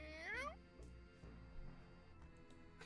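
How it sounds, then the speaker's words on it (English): A cat meow sound effect, a single rising-then-falling meow at the very start, followed by quieter scattered knocks and a low background hum. "It sounds like a cat."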